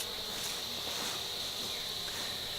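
Honey bees in an open hive with no smoke in use, giving a steady, close insect buzz that holds an even level throughout with no pauses, and no talking is heard.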